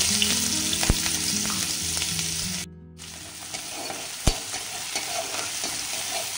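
Chopped onions dropped into hot mustard oil sizzle steadily in a pan, with a brief break in the middle and a couple of sharp clicks as they are stirred, close and alone without talk.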